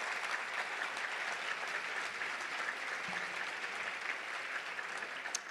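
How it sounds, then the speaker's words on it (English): A crowd at a touchdown club luncheon applauds volunteers steadily for several seconds, a dense, even patter of many hands clapping at a moderate distance, with no voices over it. "Let's give all of our volunteers a big round of applause."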